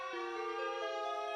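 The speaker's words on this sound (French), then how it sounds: "Si vous entendez la sirène nationale d'alerte" France's national civil defense alert siren wails in a steady, loud, sustained tone with rich stacked harmonics, the pitch shifting slightly upward partway through and holding without a break.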